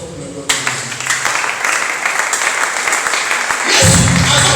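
Church congregation applauding during a sermon, a sudden burst of dense clapping that builds and swells, loud and close, with a rising crowd roar near the end.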